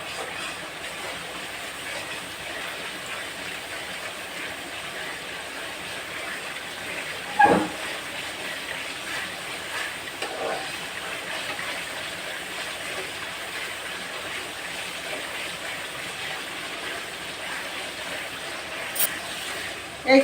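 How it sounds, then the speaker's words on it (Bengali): Vegetables sauté in a pan for chorchori, a home-style Bengali mixed-vegetable dish. A steady, moderate frying hiss runs without a break, with a few light clinks of utensils against the pan. "এই যে দেখেন একটু কষাতে হবে।"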